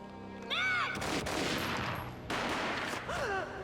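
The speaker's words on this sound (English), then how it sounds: "A gunshot boomed and she fell down in slow motion." Gunfire in the Max Payne video game, a burst of loud shots in quick succession, sandwiched between short stretches of a voice speaking in a game scene.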